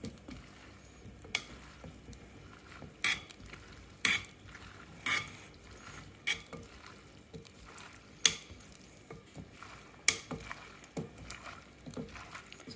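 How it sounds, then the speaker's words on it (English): Tuna pasta being slowly mixed in a bowl, with a soft, steady scraping of food under sporadic sharper clinks and knocks of the utensil, moderately near and fairly quiet, without any talk. "So everything's mixing together very slowly. It takes time to mix pasta."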